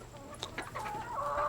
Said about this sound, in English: Yeah, chickies.